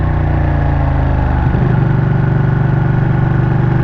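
Motorcycle engine running steadily and loud up close while riding, a low continuous drone that shifts pitch midway as the revs change, with no talk.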